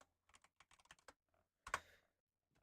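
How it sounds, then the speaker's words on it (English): Quick bursts of typing on a computer keyboard, a run of light clicks followed after a pause by a louder clatter of keystrokes, close and alone. "Typing barrels in plural."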